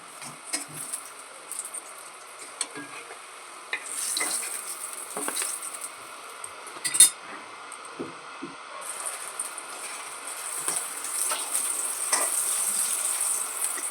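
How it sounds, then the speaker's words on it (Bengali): Tomato paratha frying in hot oil, a steady soft sizzle with bursts of crackle and occasional clinks of a utensil against the pan, close and moderately loud, with no talking. "তেল গরম আছে ভালো মতোই কুক হয়ে যাবে সাইড দিয়ে আস্তে আস্তে ফুলে উঠছে"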